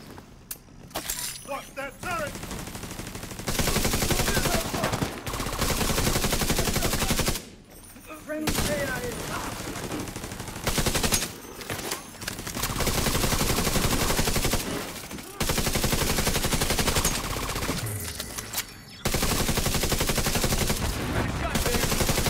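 Loud automatic and single-shot gunfire from The Division 2, played in co-op, with sustained bursts broken by short pauses. Players talk over the shooting.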